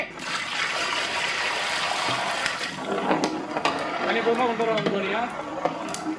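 Raw water poured into a pan of onion, tomato and masala paste for chicken feet curry, a steady splashing trickle under ongoing kitchen chatter.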